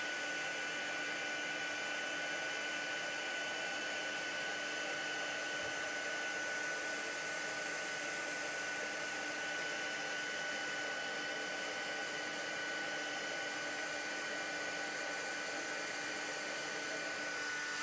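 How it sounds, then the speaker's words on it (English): A heat tool blows steadily for the whole stretch, warming and melting embossing powder on a handmade watercolour card. The sound is a continuous broadband whoosh with a faint steady tonal hum, consistent in level, and there is no talking. "Then I just warm up my heat tool."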